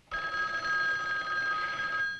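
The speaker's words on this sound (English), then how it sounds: "The phone is Rita with the information he wanted" An old-style telephone bell rings close and clear in one continuous burst lasting about two seconds, with no talking over it.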